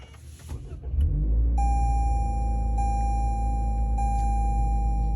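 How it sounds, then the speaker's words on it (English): A 2021 Toyota Corolla Apex Edition fires up with a push-button start, settling into a steady, close exhaust drone with a low rumble and faint tonal whine, no talking. "It kind of rattles. So it has a decent exhaust too, sound-wise, feel-wise"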